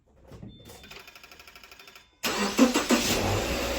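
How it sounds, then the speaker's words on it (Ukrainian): A Subaru engine cranks with a rapid, rhythmic starter whir, then catches and roars to life, settling into a loud steady idle. "Далі він спробує запустити машину."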